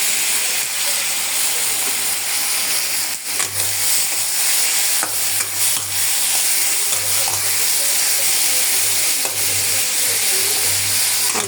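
Onion, tomato and green chili sizzle loudly in hot oil, a dense, continuous frying hiss with occasional stirring scrapes and a steady low hum underneath.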